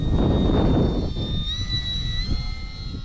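FT Freedom Fox V2 RC airplane, a modded electric model, passing into the wind with a thin steady high motor whine that shifts slightly in pitch over a rough blustery wind rumble.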